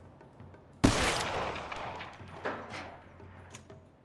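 A single loud gunshot in the video game LA Noire VR rings out sharply near the start and trails off into echo, followed by a couple of softer clicks and knocks, alone without talk.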